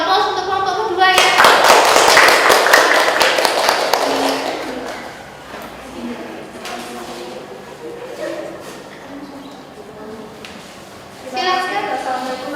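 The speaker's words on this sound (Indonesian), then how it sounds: "Silakan beri aplaus untuk kelompok kedua ya." A classroom audience claps for the second student group, a dense burst of applause that fades into voices talking, with another short round of clapping near the end.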